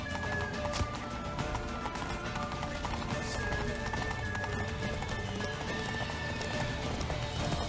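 A horse gallops in The Witcher 3 on PS5, hooves clip-clopping in a fast, continuous rhythm under steady game background sound, with a neigh mixed in.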